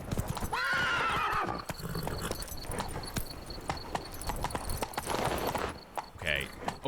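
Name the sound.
horse Roach neighing and trotting, from video game The Witcher 3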